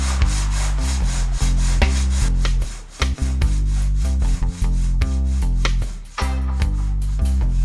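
Cured epoxy is sanded on the front bumper of a Renault 5 GT Turbo, making loud, steady back-and-forth rasping strokes close up, with a couple of brief pauses before the scraping resumes.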